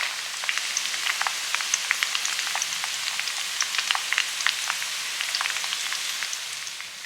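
Guava leaves, onion, fenugreek and black cumin bubble in hot oil with a steady, close crackling sizzle, many small pops scattered over a continuous hiss, no voice heard.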